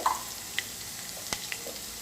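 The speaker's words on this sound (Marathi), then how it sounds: "लसूण सगळं फ्राय व्हायला मी जिरे टाकलं" Cumin and garlic fry in hot oil in a pan for a thin potato curry. A faint, thin sizzle carries a few soft ticks and pops.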